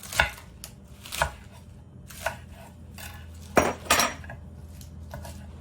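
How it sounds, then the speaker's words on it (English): A knife chops salad leaves on a board in a kitchen, giving several sharp, close cuts in an irregular rhythm with pauses between them and a quick double stroke near the end. "I'm just going to go ahead and chop it. Chop it, chop it, chop it."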